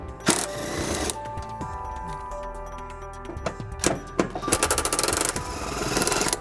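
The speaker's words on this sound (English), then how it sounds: "we're going to remove these two bolts on the bottom of the frame, and we're going to be using an 18mm socket to do that" An 18mm socket works bolts loose from the bottom of the frame of a 2001 Jeep Grand Cherokee during a trailer hitch install, with metallic clanks followed by rapid ratchet clicking at close range.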